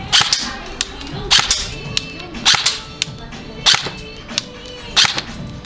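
Toy gun firing at targets in a fairground shooting game, sharp snapping pops in an irregular series of about six to eight shots, fairly close, over busy background noise.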